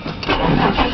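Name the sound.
old van engine cold starting on icy morning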